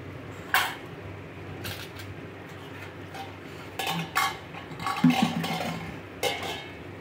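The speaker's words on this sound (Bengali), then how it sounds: "এই ঢাকা দিয়ে রেখে দিলাম" A metal lid set onto a pot of cooked cauliflower in a home kitchen gives a few light clinks and clatters, close by and fairly quiet, with a brief louder metallic knock near the end.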